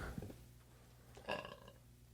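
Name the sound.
burp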